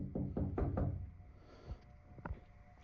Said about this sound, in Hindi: कोई तो दरवाजा बजा रहा है उनका।